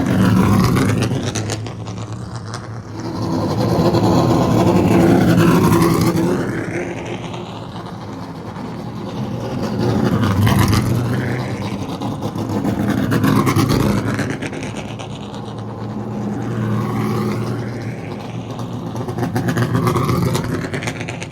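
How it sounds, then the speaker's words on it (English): Late model stock cars racing around an asphalt oval, engines swelling loudly as the pack passes close by, then fading and returning in repeated waves of roaring and Doppler-shifting revs. "it's finally time to go late model stock racing."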